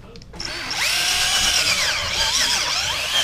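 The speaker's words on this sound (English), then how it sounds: "go ahead and use the drill head over there" A power drill spinning a scrub brush head on carpet whirs up after a short quiet start, spinning steadily and loudly with a shifting, warbling pitch as the brush presses and moves.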